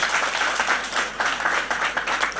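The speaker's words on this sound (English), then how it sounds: "let's clap for ourselves" A standing conference audience claps for itself, brisk loud applause from many hands with a slight pulsing rhythm, continuous through the short stretch.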